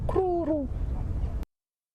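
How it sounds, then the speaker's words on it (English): A Cape turtle dove calls during an African safari sunset drive: a short series of clear, hooting notes, then stillness as the sound cuts off. "You'll hear a Cape turtle dove calling in the distance."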